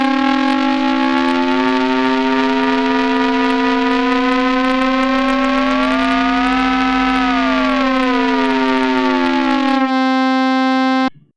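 A loud sustained additive synth tone rich in harmonics, its upper partials bending upward and gliding back down while the low fundamental holds steady, then cutting off.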